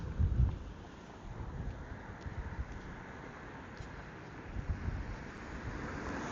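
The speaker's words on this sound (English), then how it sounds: "Ooh, that just got windy." Wind blows across the microphone in low, rumbling gusts, strongest at the start and swelling again later, with no voices.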